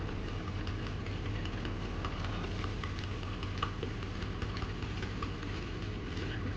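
A 1976 Ford F100 truck engine idles steadily in first gear, a continuous low rumble with faint ticking throughout and no voices.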